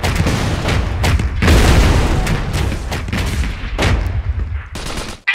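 Gunfire and heavy booms from the real-time strategy game Iron Harvest, as engineers come under fire near a bunker. Loud, dense bursts and thuds overlap continuously for several seconds, then drop out briefly near the end.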